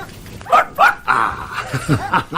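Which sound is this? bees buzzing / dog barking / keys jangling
dog barking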